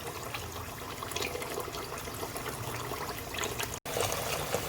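Tap water runs and trickles steadily while beef and pig's tail are rinsed with lime juice for red peas soup, a close, continuous splashing flow with a brief break near the end.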